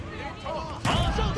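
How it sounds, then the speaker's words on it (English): A big cannon fires in an Age of Empires 4 multiplayer battle: one sudden loud blast cuts in about halfway through and rumbles on, over game noise and someone talking throughout. "Oh, it's the cannon."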